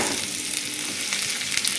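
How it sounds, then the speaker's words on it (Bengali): Chopped garlic and onion fry in hot oil in a wok, giving a steady, dense sizzle that stays loud and even throughout, with faint stirring scrapes underneath and no voices. "রসুন কুচি দেওয়ার পরে একটু বাদামি হয়ে গেলে এর মধ্যে আমি এবার পেঁয়াজ কুচিগুলো দিয়ে দেবো।"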